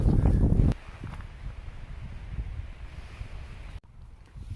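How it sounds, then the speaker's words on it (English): Strong wind gusting on a mountain hiking trail: a loud buffeting burst at the start, then a steady rushing roar that rumbles and flutters against the microphone with no speech over it. "Do you hear this wind?"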